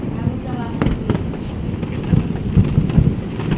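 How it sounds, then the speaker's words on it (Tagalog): Deep booming blasts of a New Year fireworks barrage rumble through a noisy outdoor scene, with people talking throughout. "Tagal din ng fireworks."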